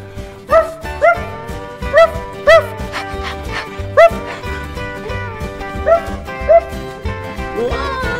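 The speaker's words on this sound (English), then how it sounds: "Look, this is where cow dogs stay." Dogs in a cow barn give a run of short, sharp barks and yips at an irregular rhythm, fairly close, with some whimpering and indoor background noise.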